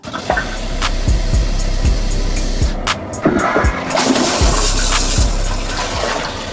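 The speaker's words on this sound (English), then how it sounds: "When you stand up, the toilet automatically flushes." A HOROW N30 smart toilet flushes automatically, a loud, close rush of water with pulsing surges and gurgles as the bowl refills, and no voices.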